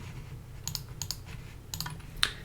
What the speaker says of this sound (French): on va appuyer sur le clavier pour la touche qui va être utilisée